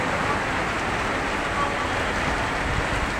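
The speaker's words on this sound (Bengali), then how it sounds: "এখন প্রচুর পরিমাণে বৃষ্টি হচ্ছে এখানে" Heavy rain pours down steadily at a roadside crossroads in Gazipur, Bangladesh, a dense, unbroken rushing hiss with no pauses, close and fairly loud throughout.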